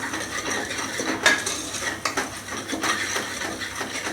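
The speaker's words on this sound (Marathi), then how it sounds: "जरा तेल सुटेपर्यंत आपण ह्याला परतून घेऊया" A utensil scrapes and clatters in a pan while onion-garlic masala and spices are sautéed for misal, with repeated metallic scraping and clinks close up and no talk.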